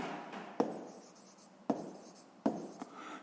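A pen scratches numbers onto paper close by, with short scribbling strokes broken by three sharp taps as the pen lands, and no talk over it.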